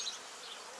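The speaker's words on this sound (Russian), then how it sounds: "И мух, посмотри, сколько." Flies buzzing around food during an outdoor tasting of surströmming, fermented Baltic herring, a faint thin insect drone lasting under a second with no voices.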